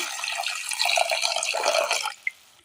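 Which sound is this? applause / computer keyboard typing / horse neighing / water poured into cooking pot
water poured into cooking pot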